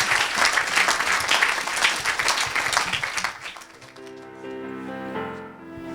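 A church congregation breaks into loud, sustained applause and cheering, which fades after a few seconds into soft background music.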